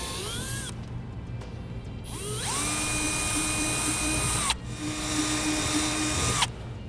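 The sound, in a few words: drill with 5/16 inch bit enlarging holes in bracket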